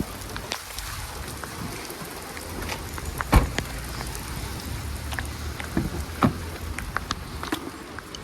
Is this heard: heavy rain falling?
yes